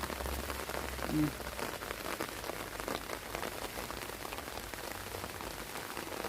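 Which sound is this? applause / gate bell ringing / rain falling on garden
rain falling on garden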